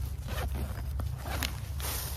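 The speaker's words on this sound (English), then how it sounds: "I noticed this front has a zipper too." The zipper on a backpack's front pocket is worked in several short, scratchy strokes, close but soft, over a low background rumble and with no speech.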